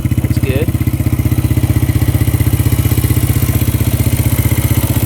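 An ATV quad engine idles low and steady up close, a loud, even thumping pulse with a brief faint voice near the start.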